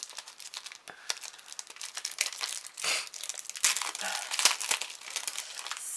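Crinkly plastic packaging being opened on a freshly unboxed item, a close, busy stream of crackling, tearing and rustling that rises in bursts over several seconds, with no voice over it.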